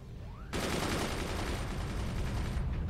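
Machine gunners open fire in the Forts video game, a sudden dense rattle of rapid shots that starts after a brief lull and keeps hammering steadily and loud to near the end.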